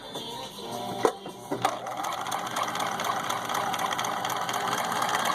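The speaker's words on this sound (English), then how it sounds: "we're just going to sew in the straight stitch here" A Husqvarna Viking 6440 sewing machine sews a straight stitch in its reduction gearing mode, with a few clicks followed by a steady, close, grinding mechanical hum that builds slightly and runs on without speech.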